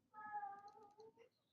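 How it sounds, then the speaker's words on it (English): A cat meows loudly and close by, one drawn-out, wavering call that rises into a strained, yowling caterwaul before breaking off, with a faint high tone lingering after. "Oh my god, this cat."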